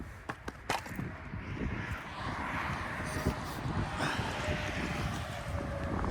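Wind blows outdoors beside a cowboy cabin under construction, a continuous rough rush with gusty buffeting against the microphone that holds steady throughout.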